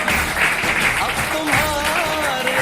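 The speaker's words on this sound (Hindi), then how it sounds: "दोनों के लिए जोरदार तालियां" Applause rises from a group gathered for a results announcement, a dense, even patter of many hands clapping through under three seconds, with a faint voice or tone weaving through it.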